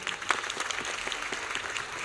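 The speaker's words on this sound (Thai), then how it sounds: "ขอเสียปรบมือให้กับทุกคนที่นั่งอยู่ตรงนี้อ่ะ" An audience at a Thai stage event claps together in a dense, even wash of applause, with a few sharper individual claps standing out near the start and continuing without talk.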